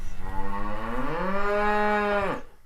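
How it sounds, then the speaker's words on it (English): A single cow moo rises and holds as a long, loud, drawn-out lowing call, heard alone and close, then cuts off abruptly. "for that you get a cow noise"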